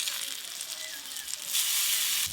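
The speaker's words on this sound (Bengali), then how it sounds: "আর 2 পিস পাতুরি ভেজে নিলেই সব পাতুরি ভাজা হয়ে যাবে।" Hilsa fish paturi wrapped in pumpkin leaves frying in a pan, a soft steady sizzle that swells louder near the end, with no talking.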